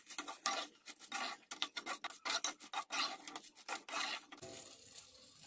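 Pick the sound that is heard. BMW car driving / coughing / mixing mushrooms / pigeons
mixing mushrooms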